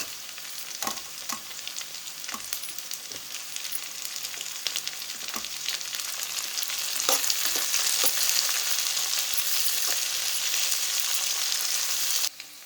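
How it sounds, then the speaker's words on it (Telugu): Onion and capsicum frying in oil for a spicy vegetable fry, a continuous close sizzle with occasional clicks of stirring, growing slightly louder midway and running alone without talk. "బాగా ఆయిల్లో ఫ్రై అవ్వాలి. సో ఆనియన్ వేగాక మనము సిమ్లా మిర్చి యాడ్ చేసుకోవాలండి."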